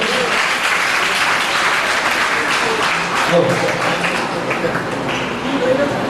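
A hall audience claps loudly and continuously to welcome a guest at a programme, a thick sustained applause with voices mixed in underneath.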